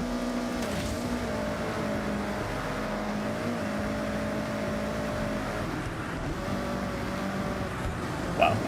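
Racing-game car engines on a touge mountain road drone steadily and loudly throughout, with sustained engine tones holding and shifting pitch as the cars accelerate, plus a brief sharp sound right at the end.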